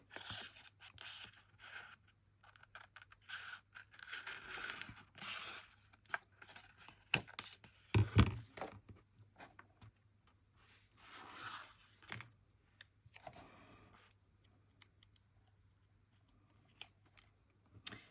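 Scissors snipping through paper to cut out a small strawberry shape for layered circle tags, irregular crisp close cuts and rustles with pauses between, no talking.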